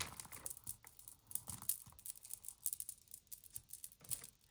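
Vintage plastic necklace beads, made to look like agate, clack and crinkle softly as they are handled, giving faint, irregular small clicks and rustles close by.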